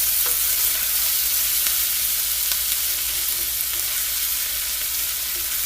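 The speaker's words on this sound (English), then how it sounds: "And now we finna sort of deglaze the pan" A hot skillet sizzles loudly and steadily while being deglazed for corn chowder, a dense hiss with a few faint clicks and scrapes, close up and without talk.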